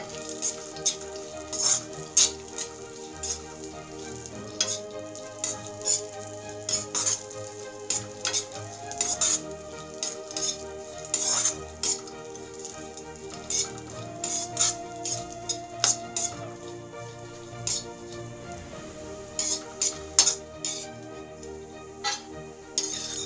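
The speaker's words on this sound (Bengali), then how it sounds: "ঘি দিয়ে ওই কুচনো বাদামগুলো হালকা করে একটু সতে করে নেব" Chopped nuts sautéing lightly in a little ghee in a wok: a soft background sizzle under frequent sharp metallic clinks and scrapes of a spatula against the pan, steady throughout.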